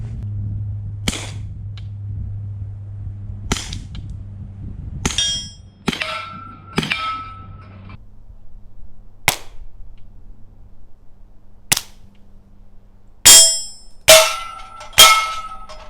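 Sharp suppressed subsonic 9mm gunshots from an AR-style rifle with ringing metallic clangs, recorded downrange, about nine shots spaced irregularly over a quiet background, some close together near the end.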